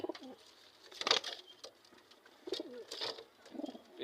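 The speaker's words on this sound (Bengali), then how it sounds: "পিছনে কবুতরটা মারামারি করতেছে" Pigeons at a Bengali loft, one a sealed 20 km tournament racer, coo and scuffle in a few soft bursts with wing flutters, fairly faint and close by, no talk.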